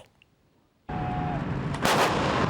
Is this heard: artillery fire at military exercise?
yes